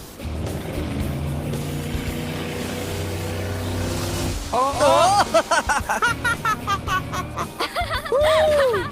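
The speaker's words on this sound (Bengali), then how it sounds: "ও, ওরা তো জলের মধ্যেই ড্রিফট করছে, পুরো ডোনাটের মতো লাগছে" Several cars drift in circles through water, engines roaring loudly for a few seconds before excited laughter and chatter take over, with engine noise continuing underneath.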